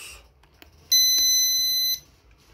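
A home security alarm panel (Midline) gives a single sustained electronic beep lasting about one second as the system is armed, clear and close in a quiet room.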